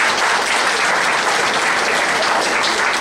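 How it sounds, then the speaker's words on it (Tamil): Audience at a keynote award event gives loud, continuous applause for a winner named Mohan, a dense unbroken wash of many hands clapping throughout. "இந்த வின்னர்ஸ் மோகனுக்கு நம்முடைய அனைவரும் சேர்ந்து ஒரு கைத்தட்டல்."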